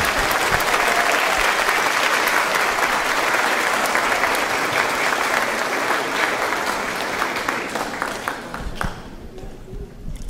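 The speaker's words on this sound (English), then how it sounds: "How about another big round of applause for all of our outstanding seniors?" A school band and orchestra concert audience applauds its graduating seniors with a dense, steady round of clapping that holds for several seconds, then thins and fades out near the end.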